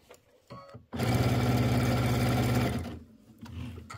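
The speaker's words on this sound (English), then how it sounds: "I'm going to sew right down to there" A home sewing machine stitches through quilt fabric in one steady, rapid burst of needle hum lasting about two seconds, close and fairly loud, framed by quiet handling noises.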